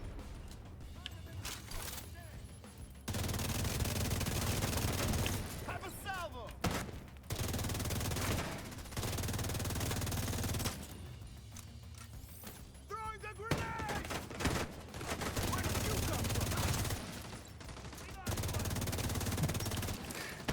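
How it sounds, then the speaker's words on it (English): Bursts of rapid automatic gunfire in a multiplayer shooter game as a player fires at a turret, several loud sustained volleys separated by brief gaps, with spoken voices between them. "Oh, he's shooting at the turret actually."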